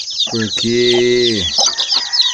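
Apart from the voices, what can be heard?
free-range hen clucking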